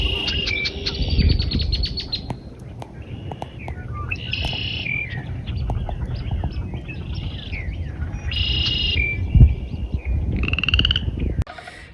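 Outdoors at a prairie overlook, frogs croak steadily beneath repeated bright bird calls and chirps that come in bursts, with a constant chorus of calls from near and far and no talking.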